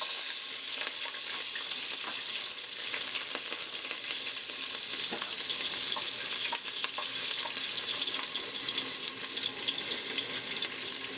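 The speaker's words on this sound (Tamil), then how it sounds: "இப்போ வெட்டி வச்சுருக்க பச்சை மிளகாயை போட்டுடலாம்." Green chillies in hot oil for an egg curry give a dense, continuous crackling sizzle with scattered pops, close and steady throughout, with no talking.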